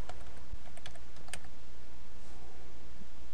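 Scattered keystrokes on a computer keyboard while setting up a phpBB forum, a few quick clicks in an uneven rhythm over a steady low hum, close and fairly quiet, with no talking.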